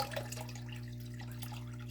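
Cloudy marine wastewater is poured into a rotifer culture, a soft irregular trickle and splash of liquid over a steady low mechanical hum, quiet and close with no talk.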